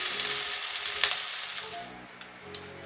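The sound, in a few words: sautéing capsicum in oil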